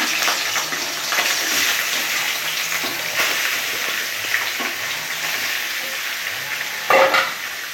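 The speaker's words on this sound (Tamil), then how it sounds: "இந்த ஆயில் வந்து ஆயிலில் இந்த சிக்கனை போட்டுக்கலாம்" Chicken pieces frying in hot oil for hotel-style chicken biryani, a steady close sizzle with occasional stirring scrapes and a brief louder clatter near the end, with no talking.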